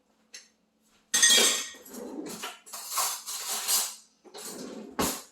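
Spoons and other kitchen utensils clink and clatter against pots and dishes while tomato sauce is being made, in several bright bursts at close range with short pauses between them.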